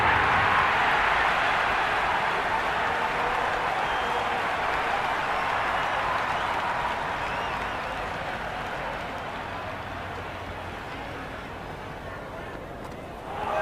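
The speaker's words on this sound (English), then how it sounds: "The crowd are really getting quite raucous." A raucous cricket crowd at a Vijay Hazare Trophy domestic match roars continuously, a dense loud cheer that slowly fades before swelling again at the end.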